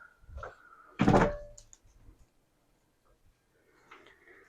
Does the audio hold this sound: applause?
no